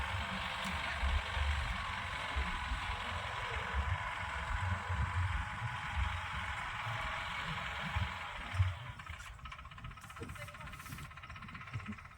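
A low tractor engine hum runs continuously at a moderate distance in a sugarcane field, steady and unbroken, with a faint thump near the end and no voices.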